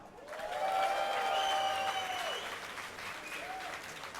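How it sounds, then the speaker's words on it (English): Esports crowd at DreamHack Summer 2012 cheers for Moscow 5 at a League of Legends match, sustained voices with a rising whoop and applause swelling then easing, moderately distant. "Let me hear a cheer from Moscow 5."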